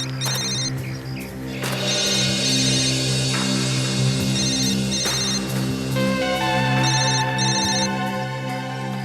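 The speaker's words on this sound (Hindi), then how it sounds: "सर ये देखिए सर, डॉक्टर सोनाली का मोबाइल फोन।" A mobile phone ringtone plays loudly and continuously for several seconds, its repeating melodic pattern heard clearly with no talking over it.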